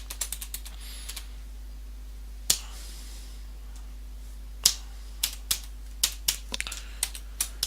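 Keys tapped on a computer keyboard while entering a long passphrase, sparse sharp clicks in small bursts with pauses between them, close and fairly quiet with no talking.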